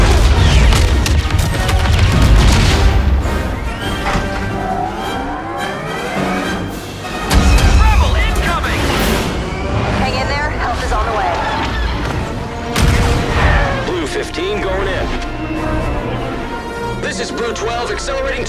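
Orbital strike explosions thunder across a Star Wars Battlefront battle on Hoth, with repeated loud booms and blasts amid gunfire, vehicle engines and shouted voices throughout.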